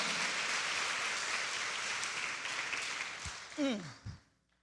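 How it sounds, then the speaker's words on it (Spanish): A church congregation applauds during a Spanish-language sermon, loud sustained clapping that tapers off toward the end as a voice breaks in briefly before near silence. "Dele fuerte el aplauso al Señor."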